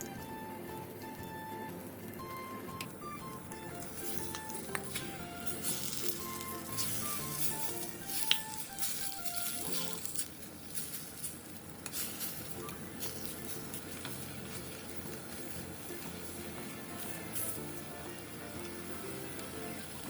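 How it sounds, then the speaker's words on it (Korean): Aged kimchi stir-frying in canned tuna oil in a pot, giving a quiet, continuous sizzle with soft stirring scrapes and clinks of a utensil, while faint background music plays and no one speaks. "냄비에 참치캔 기름과 묵은지를 넣고 5분 정도 볶아주세요."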